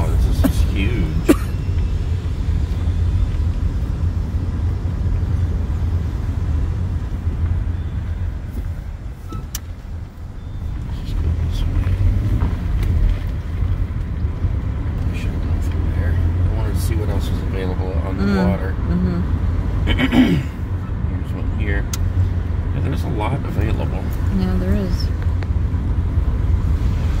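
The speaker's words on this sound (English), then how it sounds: "take a drive around the park" A car rolls steadily through a large park, its engine and road noise a constant low rumble with occasional bumps, while people talk inside the vehicle.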